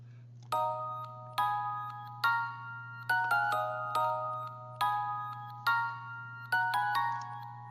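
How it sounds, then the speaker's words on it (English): A reversed toy bell sample from the Storch VST plays as a series of swelling, backward bell tones that build and cut off sharply, repeating about nine times in an uneven rhythm over a steady low hum, with no voices. "Next sound is the toy bell reversed"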